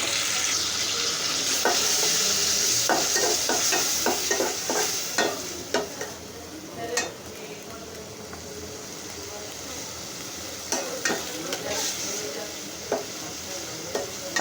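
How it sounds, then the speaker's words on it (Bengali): Shrimp sizzling in a hot pan for a shapla stalk dish, a constant bright frying hiss broken by repeated scraping stirs and clacks, close up, with occasional background voice. "এখন হচ্ছে আমি চিংড়ি মাছটা দিয়ে দিব, দেশে চিংড়ি মাছগুলো দিয়ে দিব"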